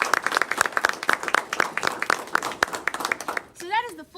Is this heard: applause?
yes